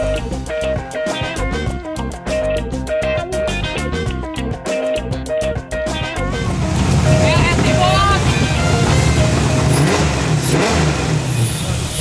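A Corvette LS V8 engine in a garage, fitted with fully replaced internals, runs with a loud, dense roar that keeps building after a rhythmic, pulsing stretch, staying close and steady throughout.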